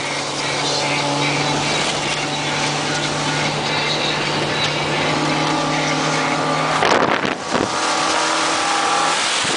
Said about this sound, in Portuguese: Ó, vem carro.